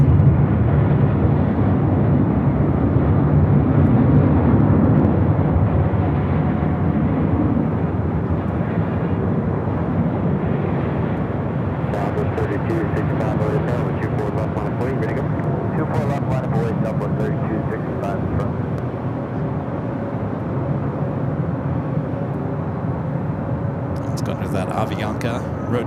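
A large airliner at LAX starts its takeoff roll, producing a loud, steady, broadband jet engine roar that holds throughout, with faint crackle and other sounds near the end.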